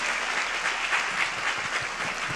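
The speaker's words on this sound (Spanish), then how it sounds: "Por favor, un aplauso para Ale." Steady applause from an audience at a women's leadership summit, welcoming a speaker to the stage; dense, even clapping that holds at the same level throughout.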